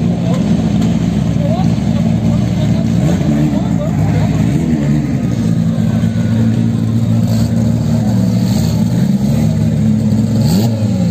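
A drag racing car revs steadily while warming up and cleaning its tires on a no-prep strip at Tarumã, a loud continuous engine drone under a commentator's voice.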